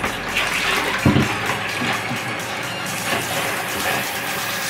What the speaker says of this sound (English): So now, putting water in the bucket.